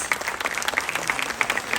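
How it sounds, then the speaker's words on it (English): At a Ministry of Culture workshop on intangible cultural heritage, the audience claps for the performing artists, a brief burst of close, lively applause lasting under two seconds. "A big round of applause for our artists"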